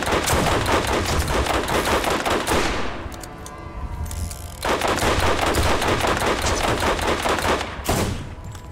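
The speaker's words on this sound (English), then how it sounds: "Shotgun." Shotgun gunfire in the video game Borderlands rattles in dense rapid bursts, loud and close, with a short lull midway before the volley resumes, then a brief pause near the end.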